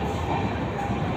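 A long train of some 30 to 35 coaches rolls past with a steady, loud, continuous rumble that fills the short moment, with a faint voice underneath.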